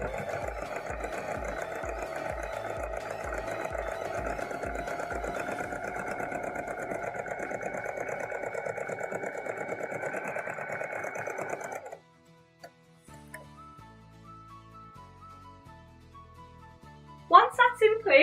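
A sewing machine runs steadily for about twelve seconds, stitching a dress neckband to its bodice in a fast, even mechanical whir that then stops, followed by quieter handling sounds and a brief clatter.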